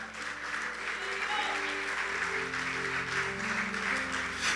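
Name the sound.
congregation applause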